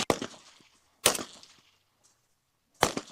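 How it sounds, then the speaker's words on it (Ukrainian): Three sharp, loud assault rifle shots spaced apart at close range on a shooting range, each followed by a short fading echo, with quiet between them. "Перший раз в житті я стріляю з автомата"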